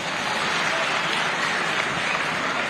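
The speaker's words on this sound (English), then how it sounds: "Once more, let's clap for these councillors." An audience at a meeting of councillors and local government officials at Mulungushi International Conference Centre claps in sustained, even applause, a dense wash of many hands that holds steady from start to finish.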